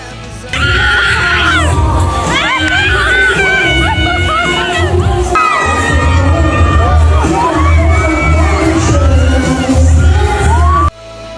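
A crowd at a beauty party screams and cheers loudly as a performer on stage sings and makes a move, shrill excited shrieks and cheers layered over thumping music, continuous and close for about ten seconds before cutting off abruptly.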